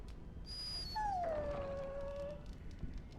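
A dog in the Dragon Age Origins video game lets out a single drawn-out whimpering whine, preceded by a short high squeal, fairly clear over a low background hum with no talk.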